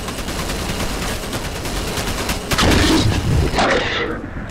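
Heavy weapon fire in the shooter F.E.A.R. Extraction Point, a loud continuous barrage of rapid shots with a heavier blast near the end before it cuts off.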